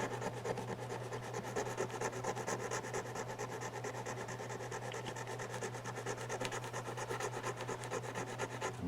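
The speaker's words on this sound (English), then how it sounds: "I'm going to smooth out all those ridges and bumps in here and that roughing with this diamond file" Diamond file rubbing over a repaired porcelain Royal Doulton fairy figurine, a quiet, steady rapid scraping in fast back-and-forth strokes with an even rhythm and no talk.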